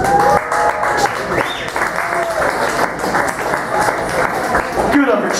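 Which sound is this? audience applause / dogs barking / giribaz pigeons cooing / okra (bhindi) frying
audience applause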